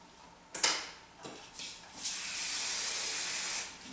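A couple of short hisses of hairspray, then a longer continuous spray lasting over a second, close and fairly quiet, with light handling noises.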